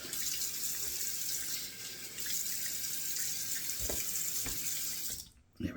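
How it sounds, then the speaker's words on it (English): Cold water runs from a tap in a steady, hissing stream and splashes into a sink, quiet and continuous, with a couple of soft knocks and a brief dip as the flow stops near the end. "So let me do 2 splashes of cold water."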